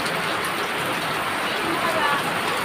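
Steady rain pouring on surfaces outdoors where turtles are playing, a continuous dense hiss with a person talking over it.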